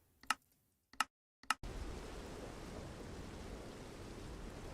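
Rain in Minecraft with the particle rain mod starts after three sharp clicks. It becomes a steady, soft hiss that fills the rest of the clip.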